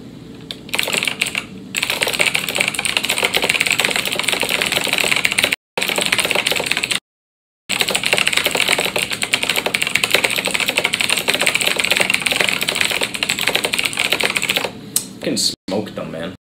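Rapid, dense clatter of fast typing on a computer keyboard during a TypeRacer race, continuous close keystrokes broken by a few short pauses.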